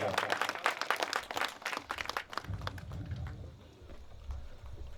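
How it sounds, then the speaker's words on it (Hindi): At an Urdu mushaira poetry gathering, the audience breaks into brisk, dense applause to welcome the host, loud at first and then thinning into scattered claps and low murmuring. "उनका जोरदार तालियों से इस्तकबाल कीजिए"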